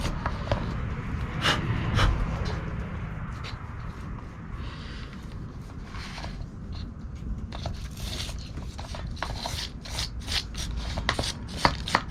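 A brass brush scrubbing the bark of a shimpaku juniper pre-bonsai, making close, continuous raspy rubbing and scratching with scattered sharper crackly strokes.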